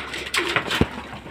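Pigeons in a loft during feeding, a few soft coos and brief wing or scuffling sounds close by, short and unaccompanied by speech.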